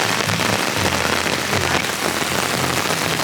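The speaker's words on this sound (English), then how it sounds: "We're in the middle of Natchez Trace Parkway. In a rainstorm." Heavy rain pours down steadily on Natchez Trace Parkway near Leipers Fork during a rainstorm, a loud, dense hiss of drops drumming on surfaces close by with no voices.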